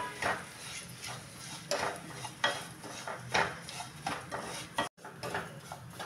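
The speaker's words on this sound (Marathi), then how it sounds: "आता हा मी 1-2 मिनटं रवा चांगला भाजून घेतला आहे, हलका होईपर्यंत" Semolina (rava) for upma is dry-roasted in a pan, a spoon scraping and clinking against the metal in repeated strokes, fairly close, with a short silent break near the end.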